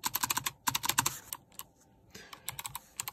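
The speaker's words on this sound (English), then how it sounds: "these clicky ones at least, it makes for a very fantastic keyboard" Clicky mechanical keys on a Logitech G815 low-profile keyboard clatter in quick, irregular bursts of sharp close taps, with a brief pause midway before the typing resumes.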